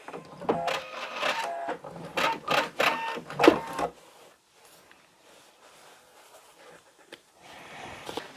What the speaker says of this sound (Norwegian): så syr jeg bare en sånn 4-5 cm bortover her